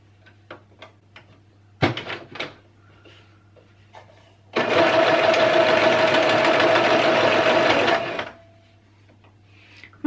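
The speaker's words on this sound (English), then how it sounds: "My sewing machine keeps trying to eat my fabric today." A sewing machine stitching bra fabric runs in one loud, steady burst of several seconds as the fabric keeps getting pulled in and bunched, with quieter clicks and handling taps before and after.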